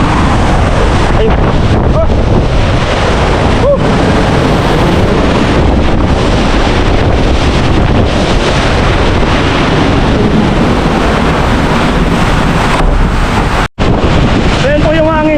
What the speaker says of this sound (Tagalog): Ayan po yung hangin.